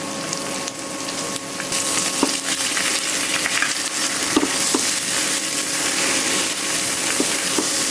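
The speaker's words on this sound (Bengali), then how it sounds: "ডিমগুলোকে অনেক সুন্দর করে এখানে ভেজে নিব, তেলের উপরে লাল লাল করে ভাজবো।" Fish roe frying in a pan of hot oil, a steady, dense sizzle and hiss that fills the whole stretch, with a few faint clinks and ticks on top and no talking.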